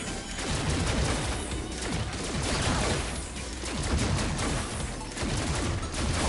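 In Super Cloudbuilt, enemy shooting pours out as a steady, rapid stream of shots, loud and continuous throughout with slight swells in intensity.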